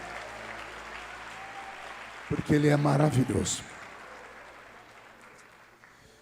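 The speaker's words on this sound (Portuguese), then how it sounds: "aplaudindo a Jesus, porque Ele é bom" Church congregation applauding at an evening revival service, a short swell of clapping and crowd noise rising briefly in the middle over a steady room hum, with someone speaking just before it.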